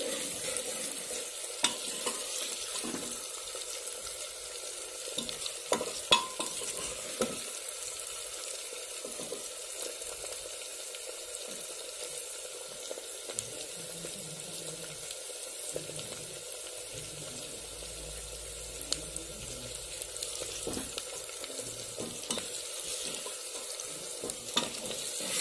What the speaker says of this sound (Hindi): बिल्कुल अच्छे से फ्राई करना है, 2 से 3 मिनट में जो है बिल्कुल अच्छे से फ्राई हो जाएंगे ये दोनों